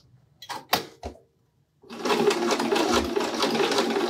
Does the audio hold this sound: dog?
no